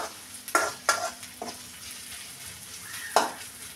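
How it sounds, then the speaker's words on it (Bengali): Onions fry in oil in a wok with a soft, steady sizzle, while a spatula stirs them in a few sharp scraping strokes heard up close. "তেলে পেঁয়াজ ভেজে নিচ্ছি।"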